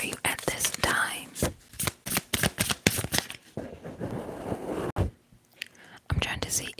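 Tarot cards shuffled up close during a whispered reading, a rapid run of crisp card riffles and taps with brief pauses, with soft whispering mixed in.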